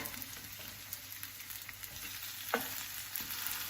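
Hash browns sizzling in a pan over medium heat, a steady close frying hiss with small pops and one brief scrape of a spatula, no talking.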